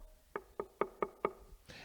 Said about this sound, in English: he pulled out his hammer, and he gave the wall a bit of a knock